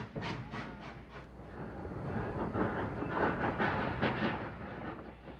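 Old steam ghost train laboring up a mountain near a small town, a steady rumbling roar with rhythmic chuffing bursts and clattering wheels, loud and close throughout with no talk.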